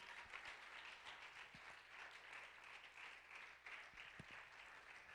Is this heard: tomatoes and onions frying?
no